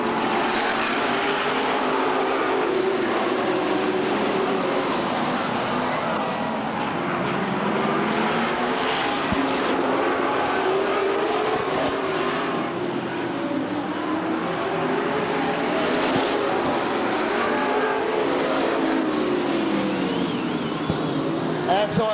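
Grand Am division race cars roar through a main event at Stockton in 1999, their engines forming a continuous, loud, rising and falling drone with voices heard throughout.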